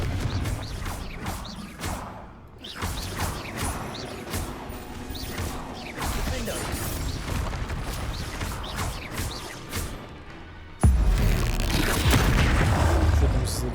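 Repeated Confringo spell explosions in Hogwarts Legacy crash and boom amid dense combat noise, heavy rumbling bursts with whooshes, ending in a sudden louder blast that stays loud.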